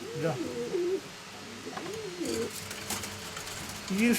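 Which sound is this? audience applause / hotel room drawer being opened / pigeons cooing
pigeons cooing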